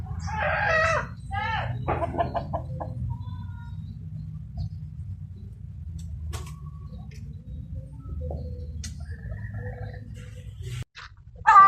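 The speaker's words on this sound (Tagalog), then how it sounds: "Mga manok, mga manok. Manok, manok. Na, daming manok." A rooster crows loudly at the start, followed by scattered clucks and chicken calls over a low, continuous rumble on a rural farm with turkeys and ducks.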